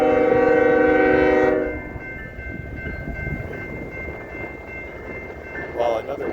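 A westbound freight train on a line out of Kansas City, a loud horn-like tone in the first second and a half giving way to a steady rumble of passing cars, with voices faintly underneath.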